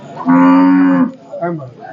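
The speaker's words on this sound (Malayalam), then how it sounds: "ചന്തയിലെത്തിയിട്ടുള്ള വേറെ കുറച്ച് പശുക്കളാണ്" A single loud, close cow moo at a cattle market, long and steady, followed by a shorter, softer lowing call.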